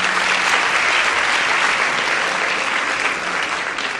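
A large school audience at a Côte d'Ivoire quiz final bursts into loud, sustained applause, a dense wash of many hands clapping close and continuous throughout.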